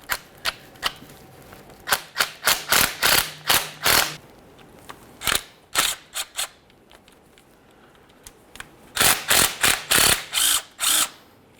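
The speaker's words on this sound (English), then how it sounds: "We'll use an 8mm to loosen these bolts." An 8mm ratchet clicks in quick bursts while loosening transmission pan bolts on a Ford Ranger, with repeated crisp rhythmic runs separated by brief pauses, close and clear.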